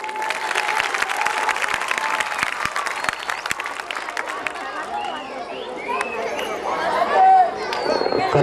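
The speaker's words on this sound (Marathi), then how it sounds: "जोरदार अशी जोरदार टाळ्या होतील तर बरं." A comedy show audience claps hard and fast, and the dense applause thins out after a few seconds. Chatter, voices and a few scattered claps carry on over the fading end.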